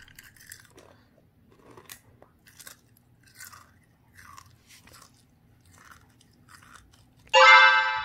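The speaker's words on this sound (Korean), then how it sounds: "엄청 바삭한 소리 나죠?" Crisp, close crunches of kohakuto hard sugar candy being bitten and chewed, spread in short bursts, then a sudden loud burst of noise at the end.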